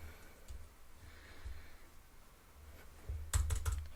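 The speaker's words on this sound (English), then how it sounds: "Can't type for crap." Computer keyboard typing, soft irregular key clicks, then a louder burst of rapid keystrokes near the end, close to the microphone with no talking.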